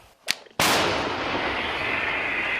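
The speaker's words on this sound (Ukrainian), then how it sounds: "Ну хоч стара гармата, але працює." A sharp, sudden blast from an old artillery gun, followed by a long rumbling roll that fades slowly; a faint click precedes it.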